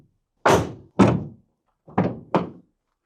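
A light door shut four times, each closing a solid thunk, the first two heavier and the last two lighter, spaced about half a second apart, close and clear with no talking.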